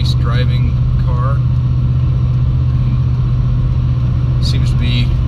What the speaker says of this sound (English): 351 seems to be a good running motor. No smoke, no leaks, no issues.